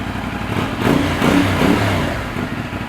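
A 450 NK motorcycle engine idling steadily nearby with a low rumbling drone that swells slightly in the middle, no talking.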